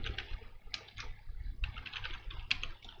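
A hashtag typed on a computer keyboard produces quick, steady soft key clicks in a continuous run, close and quiet, with no voice present.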